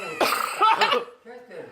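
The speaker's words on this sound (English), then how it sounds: "I just got a little cough." A man lets out a couple of rough, close coughs from a cold, followed by brief throat sounds and a short murmured voice.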